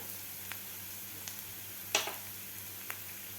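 Chopped onion and roasted peanut powder sautéing in a pan over medium heat for stuffed masala chillies, a faint steady sizzle with a few soft scrapes and clicks of a spoon stirring.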